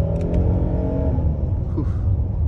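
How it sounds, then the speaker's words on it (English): The engine of a 2022 Hyundai Palisade Calligraphy in sport mode blips during a downshift rev match, a subdued, quiet rumble heard from inside the cabin, rising briefly before falling back. "Downshift. Little rev match."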